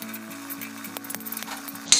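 Vegetables sizzling in a pan for a mixed sabzi of eggplant, spinach, soy, peas, potato and tomato, with garlic, and a spoon scraping and clinking as they are stirred; a steady close fry with a sharp clink near the end.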